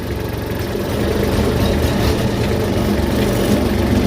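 A 2012 Kubota B2420 compact tractor's diesel engine idling, a steady low rumbling drone with slight vibration, close and constant, without talk.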